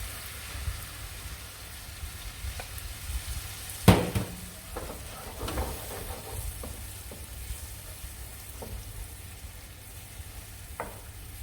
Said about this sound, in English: Then we're going to add the cream.